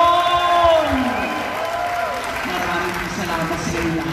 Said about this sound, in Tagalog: ang malakas na palakpak sa ating Panginoon!